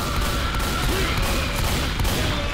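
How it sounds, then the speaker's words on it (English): Dense, continuous gunfire rattles on for a couple of seconds while fighting a witch in Left 4 Dead 2, loud shots blurring into a steady barrage with no talk over them. "I could have swore I shot that witch 3 times in the head"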